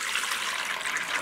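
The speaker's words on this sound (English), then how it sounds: "pour in the master batch oils" Master batch soap oils (olive oil, shea butter, cocoa butter, coconut oil and palm kernel oil) poured into a bowl, a soft continuous liquid trickle close by, with no talking.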